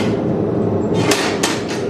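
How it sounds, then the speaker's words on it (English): A blacksmith's hammer strikes hot metal on an anvil while forging S-hooks for a chicken coop, giving a few sharp, bright ringing blows at uneven spacing over a steady background hiss. "And then you use your hammer and more metal moves."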